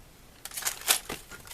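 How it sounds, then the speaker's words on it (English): Cardboard packaging of a Lego Kitty Fairy's Garden Party set rubbed and crinkled: a brief run of dry scraping crackles, a sharper rustle near the middle, close and quiet. "That's the sound of the cardboard."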